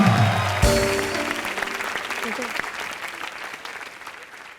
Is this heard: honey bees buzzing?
no